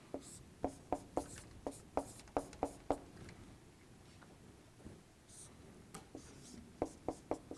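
A pen taps and scratches across paper while a chemical structure diagram is drawn for an amino acids lesson, with quick strokes in rhythmic runs and a short pause midway, close and fairly faint.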